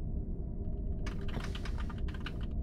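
Clacking computer keys come in abruptly partway through, as quick, close typing over a constant low background rumble, with no one speaking.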